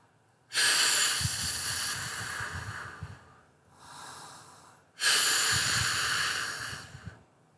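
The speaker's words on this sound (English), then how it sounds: "Pressure breathing, or pursed lips exhalation." Two long, breathy exhalations hiss out through pursed lips, close and loud, separated by a softer inhale.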